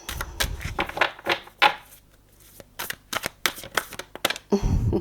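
Deck of playing cards shuffled by hand during a tarot-style reading, a series of quick riffling bursts and snaps up close, with short pauses between and no talking.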